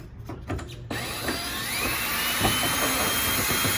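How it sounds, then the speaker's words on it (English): The last screw comes out on a 2000 Acura Integra GSR that sat for six years: a steady whirring, ratcheting tool noise starts after a brief scrape and runs on close by, with no talking. "Let me get this last screw out of here."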